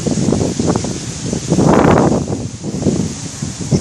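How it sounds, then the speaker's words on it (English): Wind blowing outdoors on a walk, a steady broadband rush buffeting the microphone with a louder gust swelling in the middle, no talking. "It's kind of windy out here."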